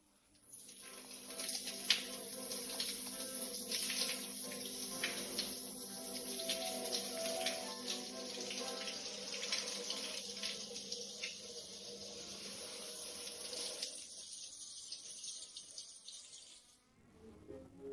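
Water runs from a tap to fill a small bath, a soft continuous splashing and trickling with faint clinks that goes on steadily for about fifteen seconds before stopping.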